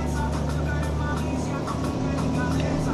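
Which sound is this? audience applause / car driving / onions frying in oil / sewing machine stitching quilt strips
car driving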